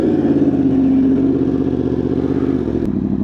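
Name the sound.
superbike motorcycle riding on the road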